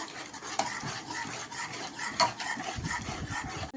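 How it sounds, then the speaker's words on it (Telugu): A spoon stirs salt into a pot of Malabar spinach dal, making close, rubbing and scraping strokes with occasional sharp clinks against the pot rim and a thick, sloshing churn toward the end, no one speaking. "టేస్ట్కి తగినంత సాల్ట్ వేసేసి బాగా మిక్స్ చేసేసుకుందాం ఒకసారి"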